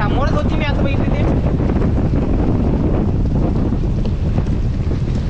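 Strong storm wind roars continuously at the Gateway of India waterfront in Mumbai during sudden heavy rain, loud broadband buffeting close to the microphone with boats nearby; a voice is briefly heard at the start.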